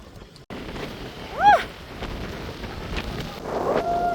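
Strong wind buffets the microphone at a cold observation deck on a snowy, gusty day, a steady rumbling roar throughout with a brief whistling tone and faint voices in the background.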